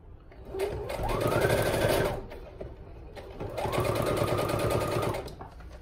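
A sewing machine whirs in two steady runs of rapid stitching on the handles of a small fabric market bag, close and clear, pausing briefly between bursts with no one speaking.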